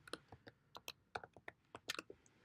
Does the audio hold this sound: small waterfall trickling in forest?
no